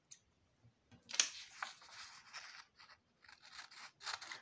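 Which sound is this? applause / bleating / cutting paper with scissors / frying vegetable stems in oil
cutting paper with scissors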